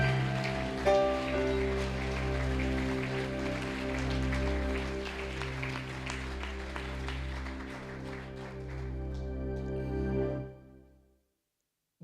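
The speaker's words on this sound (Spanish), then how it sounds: "Denle ese aplauso a Él," A church congregation claps steadily and densely over sustained organ-like chords, then the applause and music fade out near the end.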